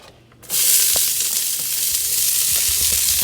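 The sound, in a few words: vegetables sautéing and sizzling in a pan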